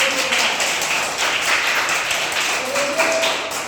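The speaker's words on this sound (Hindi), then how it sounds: "ताली बजाइए।" Students in a classroom clap for a correct answer, a dense steady patter of many hands lasting a few seconds, with faint voices mixed in.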